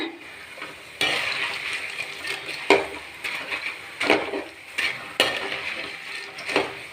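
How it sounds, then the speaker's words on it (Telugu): Payasam being stirred in a pot with a spoon, scraping and clinking against the metal in irregular strokes, close and fairly quiet, with no voices. "దీన్ని కొంచెం కలిపి పెడుతున్నా చల్లారటానికి"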